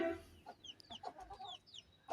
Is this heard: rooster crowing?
yes